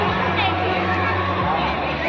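A dense crowd of bathers gathers at the Damodar river on Kartik Purnima, making a continuous outdoor babble of many voices, steady and fairly loud.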